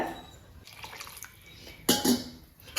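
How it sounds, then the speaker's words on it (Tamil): Water splashes and trickles into a pot of sambar made without chilli powder, cooked dal already added, in two short bursts with the second one louder and closer. "இதில் வந்து இன்னும் கொஞ்சம் தண்ணி சேர்க்கணும்."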